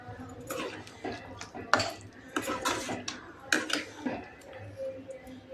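A spoon stirs chicken gravy in a pot, producing irregular clinks and scrapes of metal against the pot at close range, fairly quiet, with some low background sound between strokes.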